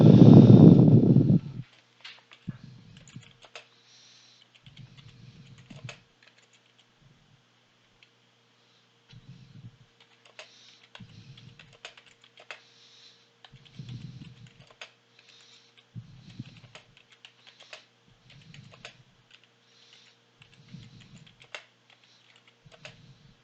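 Fingers tap on a computer keyboard in short irregular bursts of quiet clicks, separated by pauses, after a brief louder noise at the start; no one speaks.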